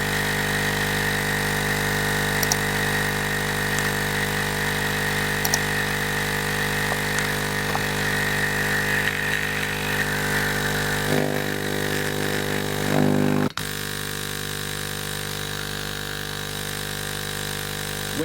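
A Hailea ACO 318 45-watt laser air assist pump runs with a steady buzzing hum and a constant mechanical whine, then cuts abruptly to a quieter, lower hum near the end.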